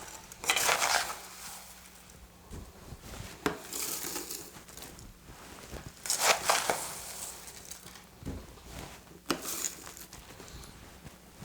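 Crushed ice goes into a Georgia Mint Julep cocktail as a few bright clattering, rattling bursts, spaced apart with quieter gaps between them, and no one speaking.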